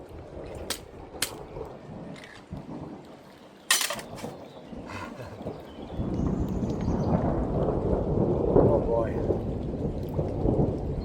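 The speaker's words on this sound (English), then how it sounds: "it's already starting to rain" Rain and thunder at a solo canoe campsite in Bavaria: sharp thunder cracks over a quiet stretch, then steady rain pattering loudly on surfaces nearby, with a brief spoken exclamation early on.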